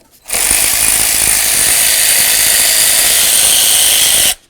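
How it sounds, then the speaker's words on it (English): A power tool runs continuously for about four seconds while removing the bracket bolts on a 1994–2004 Chevy S-10, a loud, harsh, steady buzzing rattle that starts and stops abruptly. "Now let's remove the 3 bolts that hold this bracket."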